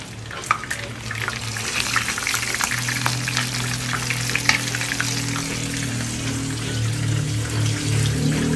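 Chicken pieces sizzle and crackle steadily in hot frying oil, a dense continuous hiss with scattered pops, close and fairly loud, with no one speaking.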